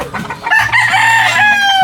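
A rooster crows loudly and close by, one long drawn-out call that fills most of the clip, with clucking and other fowl noise around it.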